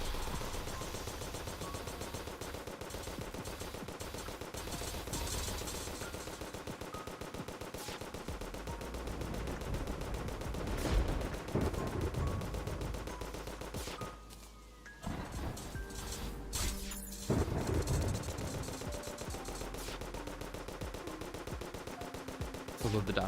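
Rapid, continuous gunfire from a Pearl God gun shooting Godslayer Slugs in Terraria's Calamity mod, a dense stream of shots layered with game effects that dips briefly before resuming.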